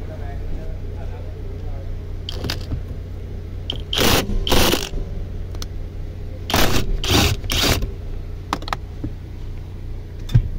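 A power tool loosens a 19 mm box nut on an Isuzu D-Max dashboard, giving several short, loud rattling bursts of ratcheting over a low background hum.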